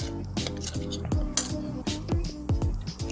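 Utensil clattering and scraping in a bowl while a wet soy sauce mixture is stirred, with irregular metallic clinks and knocks close by.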